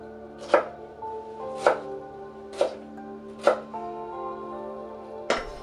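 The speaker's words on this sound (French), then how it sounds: "Détaillez en petits cubes les poivrons." A knife dices bell peppers into small cubes on a board, five crisp evenly spaced chops close up with a slight pause before the last.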